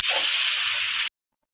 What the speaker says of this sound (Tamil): இப்போ ஸ்டவ் ஆஃப் பண்ணிவிட்டு இமீடியட்டா மேனுவலா வந்து இந்த ப்ரெஷரை நம்ம ரிலீஸ் பண்ணிடுவோம்.